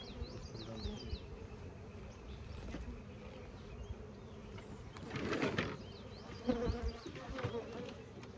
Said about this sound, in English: there are some bees in here